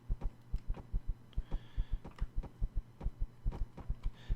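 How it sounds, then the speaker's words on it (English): A steady, looping heartbeat effect from the Empyrion space survival game throbs in a regular double-pulse rhythm, deep and continuous, with faint in-game tones drifting above it. "There's that stupid heartbeat."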